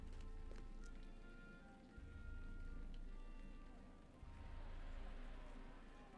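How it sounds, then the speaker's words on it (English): Steady rain falling in a video game, a continuous close hiss of drops spattering on surfaces that swells and dips slightly. "Or am I still hearing the rain sound effect?"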